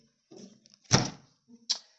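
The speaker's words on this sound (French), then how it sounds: "c'est la chaise hein, qui fait du bruit." A chair shifting indoors makes a few short scrapes and knocks: a soft rub, then a sharp, louder thump, and a final brief tap, spaced irregularly with quiet between them.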